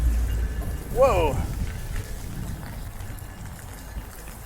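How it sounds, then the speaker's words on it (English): Wind and heavy rain sweeping over a riverside construction area in Toronto's Portlands, a steady broadband rush with a voice exclaiming briefly near the start before the storm noise continues alone. "Crazy wind and rain right now."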